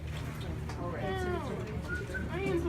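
A pigeon at a school coos close by, giving a few soft, rising and falling calls over low background noise and voices.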